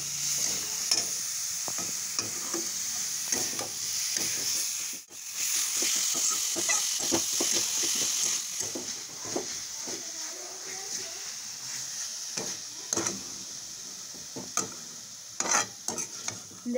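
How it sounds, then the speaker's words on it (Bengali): Grated coconut is stirred in a pan over a low gas flame, with a soft steady sizzle and repeated scraping strokes of a spoon against the pan, close and fairly quiet. "গ্যাসের ফ্লেমটা লোতে করে নারকেলটা নেড়ে নেব।"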